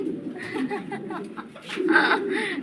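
Pigeons at a backyard pigeon farm give soft, throaty coos close by, mixed with brief chuckling voices and some indistinct talk.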